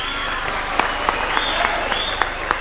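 A crowd claps in steady applause at a political rally in Embu attended by the President, sustained and fairly loud, with a voice faintly under the clapping.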